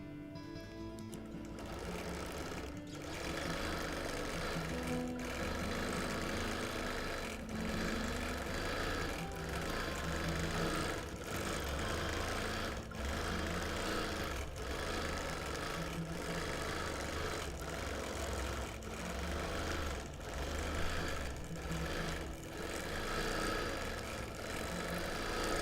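A sewing machine stitches continuously during free motion quilting on a friendship birthday quilt, its motor whirring with a rapid needle rhythm and small shifts in speed throughout.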